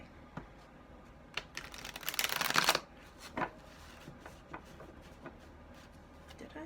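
Energy oracle cards are shuffled by hand up close, a quiet patter of card flicks that builds into one dense, louder riffle, then trails off into a few scattered taps and shuffles, with no talking.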